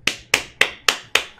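Five sharp, evenly spaced claps from a game character in PSO2, each a crisp bright slap with a quick decay, close and clear with no voices over them.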